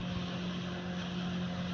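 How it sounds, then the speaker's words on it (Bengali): A motorized rice threshing machine runs steadily in a farmyard full of paddy, a continuous droning hum with a strong low tone and no break in rhythm. "ধান মেশিন কেমন চলছে দেখুন"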